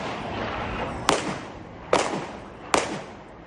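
Three sharp gunshots crack out as gunmen exchange fire with police at a building housing the Israeli consulate in Istanbul, spaced under a second apart and echoing off surroundings, over a steady background hum.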